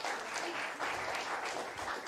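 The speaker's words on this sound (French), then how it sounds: "On peut les applaudir, s'il vous plaît." Audience applause at an award ceremony, steady clapping from a room of people, fairly soft and continuous for the whole stretch.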